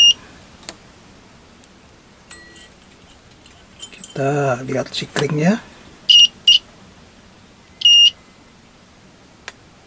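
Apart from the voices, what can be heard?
multimeter continuity buzzer beeping while testing iron fuse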